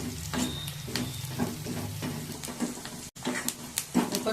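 A tempering of spices for gongura dal with sorrel leaves sizzles and crackles in hot oil, a steady frying hiss broken by sharp, regularly spaced pops and a brief clink, heard close with no talking.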